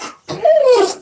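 A dog whimpers and yips at close range, a short high whine rising after a brief pause, alone with no talk over it.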